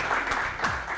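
Studio audience at a televised quiz show breaks into steady applause, a dense wash of clapping filling the short moment with a faint voice briefly underneath.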